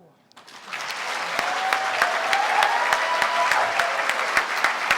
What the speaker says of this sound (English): I hope you're listening to that applause